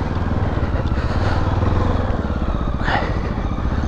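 A MASH X-Ride 650 motorcycle on a dirt trail near Lyon runs with a loud, steady low engine drone and clattering, close to the rider.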